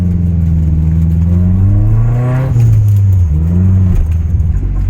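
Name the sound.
Nissan 240SX car engine revving while driving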